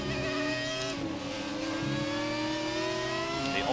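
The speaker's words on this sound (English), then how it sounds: "The only turbocharged car in the field." A turbocharged racing car engine in F1 2017 holds a loud, steady high whine, its pitch climbing smoothly and then dipping slightly, with no talk.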